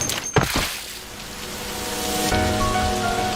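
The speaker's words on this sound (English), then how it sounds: "instead of prolonging the rain sound effect, they chose to cut and fade it out to highlight the sound of someone collapsing" Steady rain in a Blue Archive promotional video, a dense wash of falling drops broken by a sharp impact near the start, with sustained tonal sounds rising beneath the rain later on.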